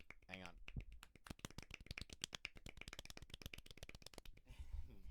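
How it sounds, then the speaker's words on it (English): Light tennis clapping, a long run of quick, even claps at close range that starts and ends with brief voices. "It's certainly worthy of a tennis clap."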